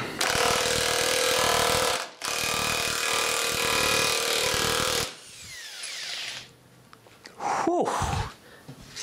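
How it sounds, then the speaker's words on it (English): Electric impact wrench hammering loose a tightly torqued nut held in a vise, two loud sustained bursts of rapid rattling separated by a brief pause, then quieter clanks and a short final burst. "I've been waiting for a good electric rattle gun"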